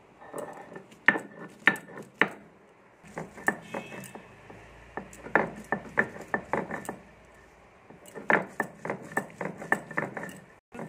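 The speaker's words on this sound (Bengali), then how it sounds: "দেখুন আদা রসুনটা একসঙ্গে আমি বেটে নিচ্ছি।" Ginger and garlic ground together on a stone slab, giving irregular bursts of sharp knocking and scraping strokes with short pauses between, fairly close and clear with no talking.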